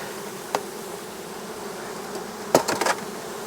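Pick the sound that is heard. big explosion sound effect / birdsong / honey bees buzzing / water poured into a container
honey bees buzzing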